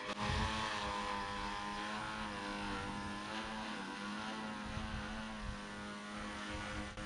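Motors of a VTOL model aircraft on a test flight hum steadily and loudly throughout, a continuous tonal drone with strong harmonics and no voices.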